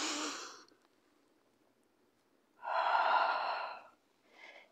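Breath sounds during a pilates roll over exercise: a short breath, a pause, then a longer, louder, close audible inhale, and a brief final breath.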